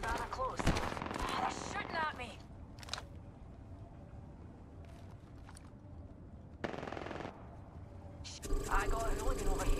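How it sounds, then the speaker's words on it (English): Gunfire in Apex Legends: rapid machine-gun bursts crackle at the start, then quieter scattered shots and a renewed loud rattling volley at the end, with game effects between. "They're shooting at me."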